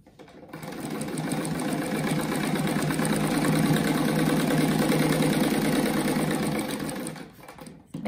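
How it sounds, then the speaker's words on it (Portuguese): A sewing machine stitching a fabric triangle onto a patchwork rug, running as a steady, close mechanical whir with rapid needle clatter for about seven seconds before stopping. "E a gente vai costurar esse triângulo bem no meio aqui."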